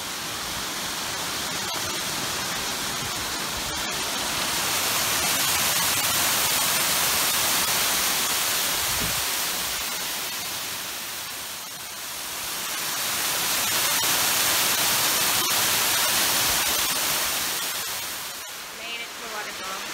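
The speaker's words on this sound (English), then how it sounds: "there's the waterfall right behind us." Waterfall roaring steadily behind hikers on a mountain trail in Kananaskis, Alberta, a constant broad hiss of falling water swelling and easing slightly, with voices heard faintly over it.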